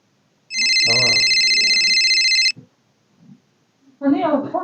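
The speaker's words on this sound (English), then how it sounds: "your phone is ringing" A phone rings loudly and steadily for about two seconds with a bright electronic tone, with someone talking over it, then brief quiet sounds and more voices afterward.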